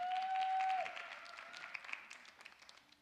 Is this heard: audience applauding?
yes